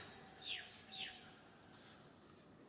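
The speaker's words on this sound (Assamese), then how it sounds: "খালি চৰাই চিৰিকটি এইবোৰ আছে" Birds in an open village field in the morning give two quick, faint chirps close together over a quiet background, then the field falls still.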